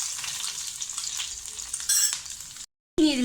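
Two chopped green chillies frying in hot oil for a soya chunks masala curry, a steady loud sizzle throughout, a brief louder crackle near the end, then a short silence and renewed spitting.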